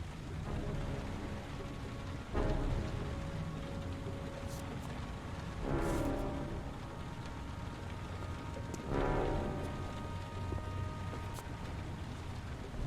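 Steady rain falls in the video game Heavy Rain, a dense, even hiss broken by three louder swells of heavier downpour or rumbling, with no voices.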